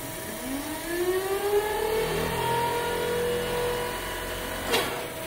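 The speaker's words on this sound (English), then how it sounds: "Press, and then in a second the motor will turn on." An electric motor on an Amatrol 950-HTB1 hydraulic trainer starts up with a rising whine that climbs in pitch over a few seconds and settles into a steady mid-pitched hum, with a brief sharp click near the end.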